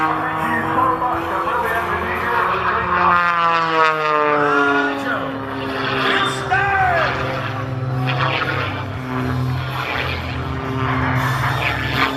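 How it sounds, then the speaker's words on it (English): A Boeing F/A-18 Super Hornet jet turning at the SUN 'n FUN 2018 airshow gives a steady, loud roar with rising and falling engine tones as it passes, while an announcer talks over a public address system throughout. "will continue its downwind turn and reconfigure for landing the Super Hornet"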